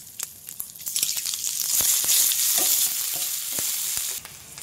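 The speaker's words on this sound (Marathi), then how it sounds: "आलं लसूण हिरवी मिरचीचा ठेचा टाकू" Ginger, garlic and green chili paste hits hot oil already tempered with cumin, asafoetida and curry leaves, bursting into a loud, steady sizzle with sharp crackles and a few stirring clicks, close up and without talk.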